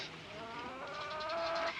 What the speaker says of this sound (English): regretted buying these hens.